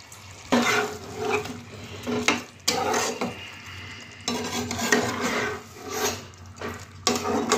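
Fried potatoes are stirred into a duck meat curry in a pan, with repeated bursts of spatula scraping and stirring over a low simmering sizzle, separated by brief pauses.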